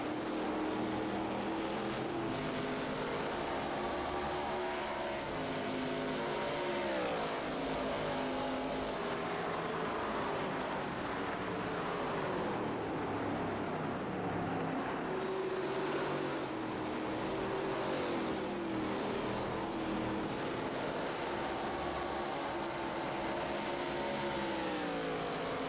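Race cars lapping the Gateway track in a Superstar East Series race, a steady loud roar of engines with rising and falling pitch as cars pass, continuous throughout with no talk.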